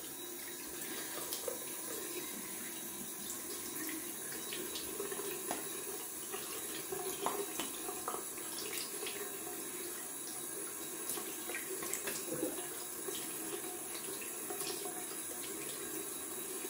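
A Gillette Fatboy razor rinsed under a running bathroom tap into a sink, a steady close splashing stream of water with small clinks, continuous throughout and no talk.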